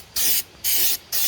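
KBS undercoating sprayed from a pressurized aerosol can in three close, loud hissing bursts, each lasting roughly a quarter second with short silent gaps between.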